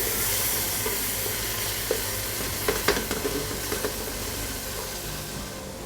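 Chicken drumsticks sizzling in a pan of curry paste made from onions, tomatoes, ginger, garlic, whole spices and green chilies, a steady frying hiss with a few soft stirring knocks, fairly quiet and with no talking.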